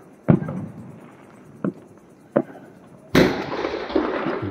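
Diwali fireworks and firecrackers bursting in a town at night: three separate sharp bangs, then a louder burst that trails into a long crackling hiss, with no voices.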